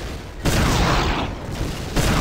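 Bursts of gunfire in Half-Life 2, loud and close, arriving in sharp volleys about half a second apart over a dense, noisy combat backdrop.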